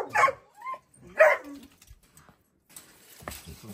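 Large dogs bark loudly close by in a few sharp bursts, followed by quieter yips and rustling movement.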